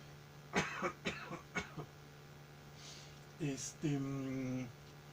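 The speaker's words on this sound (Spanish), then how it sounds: "perdónenme que me agarre la tos." Several sharp coughs in a quick cluster, followed by a short pause and then a brief bit of voiced throat sound, fairly close and moderately loud.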